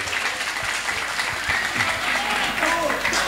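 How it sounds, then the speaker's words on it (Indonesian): Applause from the crowd at an Islamic religious sermon gathering, a steady wash of clapping at moderate volume, with faint voices mixed in beneath it. "Tepuk tangan."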